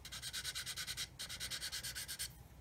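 A sanding stick rubs back and forth over plastic on a 1/32 Airfix Humber scale model, quick regular gritty strokes, close and quiet, pausing twice briefly between runs.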